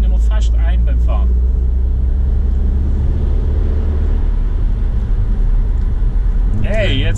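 A car's engine drones and builds under acceleration during a driving lesson, a loud steady rumble with brief bursts of voices at the start and end.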